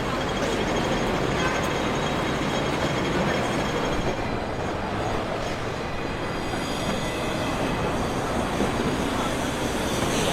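Hong Kong metro train at Central station, a loud steady rumble and roar of the moving train that fills the whole stretch, with no talk over it.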